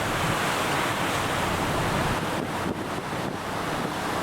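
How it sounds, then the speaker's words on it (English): Calm sea seen from a cruise ship deck in a Chilean channel early in the morning: a dense steady wash of water and wind noise, close and continuous, with no voices. "It's now a calm sea."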